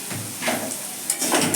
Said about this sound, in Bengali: অল্প একটু হলুদ দিয়ে দিলাম ভাজার মধ্যে।